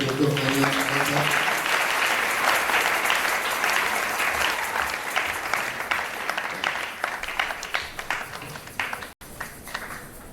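Audience applause in a church service welcoming a guest, steady dense clapping that fills the room for about nine seconds and then thins out, with a voice heard briefly at the start.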